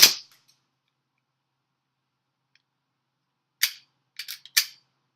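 A WE Apache MP5 gas blowback airsoft gun fires at a target about 35 feet away: one sharp crack at the start, then after a long silence a quick cluster of three or four snappy shots, close and loud with no talk.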